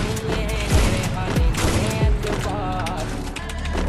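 Sniper rifle fire in a busy video game match, several sharp, loud shots with falling tails spaced about half a second apart, set in a dense wash of game noise and background sound.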